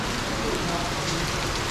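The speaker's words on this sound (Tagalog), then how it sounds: "bigla pong bumuhos yung malakas na ulan kaninang alas 4:30." Heavy rain pours down steadily at a modern bahay kubo build site, a dense, continuous broadband hiss that stays loud and even throughout without pause.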